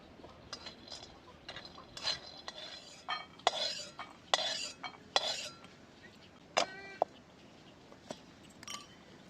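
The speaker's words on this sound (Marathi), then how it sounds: "आता हे शेंगदाणं भाजून घेते" Peanuts dry-roasted in a pan, scattered close metallic scrapes and clinks of a utensil against the pan, quiet and irregular, with no talk.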